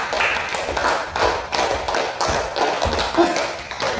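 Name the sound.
clapping hands, applause in a classroom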